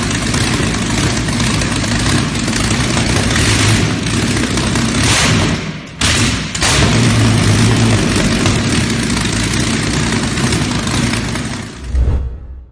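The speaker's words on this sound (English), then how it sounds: "the Rolls-Royce METEOR, which was developed in 1943 for use in World War II from the Rolls-Royce Merlin aircraft engine." Rolls-Royce Meteor tank engine, a 1943 wartime development of the Merlin aircraft engine, runs loud and steady with a deep rumbling drone, briefly dipping near the middle before roaring on and cutting off at the end.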